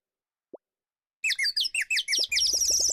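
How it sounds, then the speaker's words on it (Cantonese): A small bird sings a quick series of bright, repeated chirping phrases, close and clear against silence, after a single soft plop, with a few low thuds under the later notes. "雀仔喺度唱歌，"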